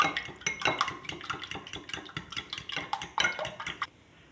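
Egg being mixed in a bowl with crushed red chilli and turmeric, a close, busy run of utensil clinks and scrapes against the bowl in quick irregular strokes, stopping just before the end.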